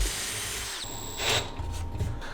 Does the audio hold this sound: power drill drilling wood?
yes